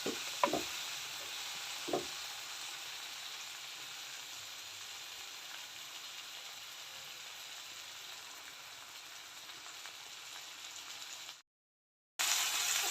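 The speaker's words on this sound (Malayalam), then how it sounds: "ഫ്ലെയിമൊക്കെ ഒന്ന് കൂട്ടി വെച്ച് നമുക്ക് തക്കാളിയും കൂടെ ഒന്ന് നന്നായിട്ട് ഫ്രൈ ആക്കി" Tomatoes for a Kerala-style dried fish curry frying in a pan over raised flame, a faint steady sizzle that hisses on evenly with a couple of soft knocks near the start and a brief dropout near the end.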